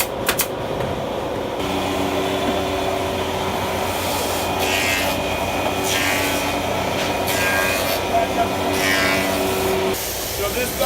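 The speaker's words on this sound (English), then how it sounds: "So what he does behind me is he sands them down so they're flush." Rough edges of a freshly glued and nailed wooden box being sanded flush in a craft workshop, a steady continuous rubbing and rasping close by that runs throughout, with workshop noise and a voice talking over it.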